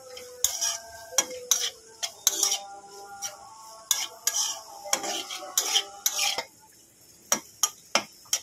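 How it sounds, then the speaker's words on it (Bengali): A spoon scrapes and clinks against a pan while an egg snack with cumin and garam masala powder fries, sharp metallic stirring strokes coming in irregular bursts over a faint sizzle. "দিয়ে ভালো করে এটাকে আবার একটু ভেজে নেব"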